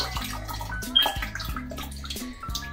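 Water is poured into curd in a bowl to make sweet lassi. Close, splashy trickling comes in a few bursts with gurgling, rising tones as the vessel fills, and nobody speaks.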